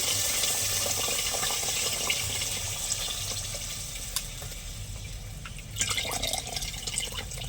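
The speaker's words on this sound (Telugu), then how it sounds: "మన సరిపడే చింతపండు నీళ్ళు అయితే వేసుకోవాలండి" Tamarind water pours steadily into a pan of korameenu fish curry with a hissing, splashing wash, then briefly intensifies near the end before settling; no voices.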